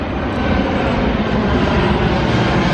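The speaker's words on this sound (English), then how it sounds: "And this is the plane." Airplane engine drones loud and steady throughout, a broad continuous roar at a seaside airstrip in Samoa, with no talk over it.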